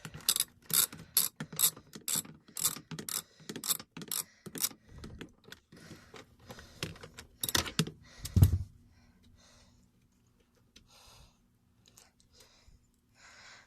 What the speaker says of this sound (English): tighten the front bolts.